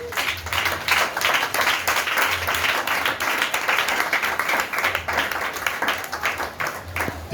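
A church congregation applauds steadily throughout, a dense wash of many hands clapping at close range, with a faint low hum underneath.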